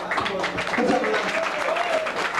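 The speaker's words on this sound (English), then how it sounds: "Let's have a round of applause for that." A concert audience claps and cheers loudly and continuously, a dense wash of applause with some voices mixed in.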